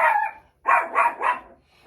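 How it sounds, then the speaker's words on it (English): A pet dog named Maggie barks three times in a quick, loud burst at neighbors passing by, after an earlier vocal sound, close to the microphone indoors. "Whenever neighbors go by, she has to bark."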